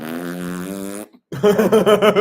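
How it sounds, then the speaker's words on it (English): A loud, drawn-out fart from a fart compilation featuring a man: one long buzzing blast, a brief silence, then a second rippling, sputtering burst, with no talking. "He had a whole compilation of thousands of loud farts that stunk up the whole room."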